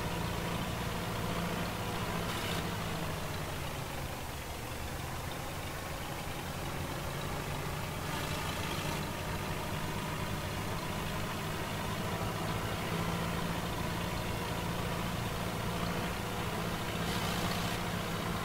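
A tractor engine idles steadily, a constant low rumble with no talking and no change in pace.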